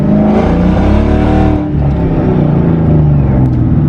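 Boosted Ford Mustang GT engine pulled past half throttle, loud, close and continuous roar with rough, uneven revving from a misfire, one brief dip midway before the strain picks up again, no talking.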